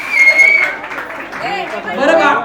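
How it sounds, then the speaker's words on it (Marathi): Applause breaks out among guests for an uncle at a Buddhist baby shower, a short burst of clapping mixed with a host speaking loudly and crowd chatter. "आमच्या काकांसाठी जोरदार टाळ्या होऊन जाऊ द्या."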